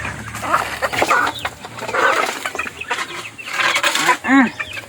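Backyard chickens cluck steadily at feeding time, a busy flock of overlapping clucks and short squawks close by, with one louder rising call near the end.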